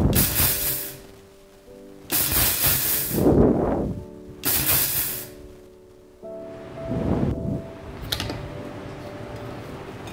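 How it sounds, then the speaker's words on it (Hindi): Dry wheat grains ground in an electric mixer grinder at home, with harsh whirring bursts of a few seconds each starting and stopping repeatedly, and short pauses between runs. "इस तरीके से जब हम मिक्सी चलाते हैं तो हमारे गेहूं पूरी तरीके से नहीं टूटते हैं"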